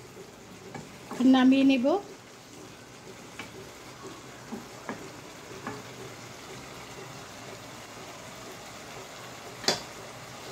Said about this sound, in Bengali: লবণটা দিয়ে একটু ভালোভাবে নেড়ে চেড়ে নিচ্ছি।